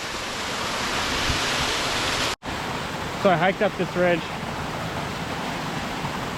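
A giant waterfall in a ravine roars as a loud, constant broadband rush that fills the scene, with someone talking briefly over it partway through.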